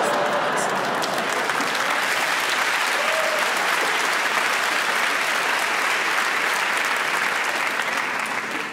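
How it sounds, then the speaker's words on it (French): A comedy show crowd claps loudly and continuously for several seconds in a steady, even wash of applause, close and full. "Ceux qui applaudissent, c'est les Lillois."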